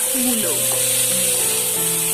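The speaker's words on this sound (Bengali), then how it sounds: "মূলোগুলোকে আমি কয়েক সেকেন্ডের জন্য নেড়েচেড়ে ভেজে নেব" Marinated radish slices, added to oil after frying ginger, crackle steadily in a hot pan while being stirred for a few seconds; the loud, continuous sizzle runs throughout with a voice faintly underneath.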